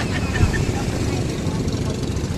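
A boat motor running as the boat docks during a town fiesta in Laoang, Northern Samar: a loud, steady low engine rumble close by, with crowd voices mixed in.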